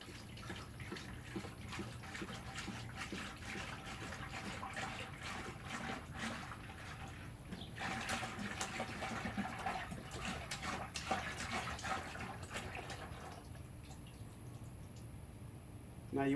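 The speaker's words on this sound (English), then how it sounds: "your gallon of distilled water, pour it in a 5-gallon bucket" Distilled water pours from a gallon jug into a 5-gallon bucket, a steady trickling splash that runs continuously for most of the stretch, quiet and close, then stops near the end.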